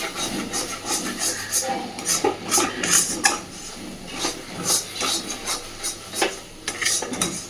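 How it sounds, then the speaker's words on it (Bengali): Repeated scraping and rasping of a utensil stirring an egg filling in a wok, steady and close, with brief metallic clinks. "ডিমটা দেওয়ার পরে কন্টিনিউয়াসলি এটা নাড়তে থাকতে হবে"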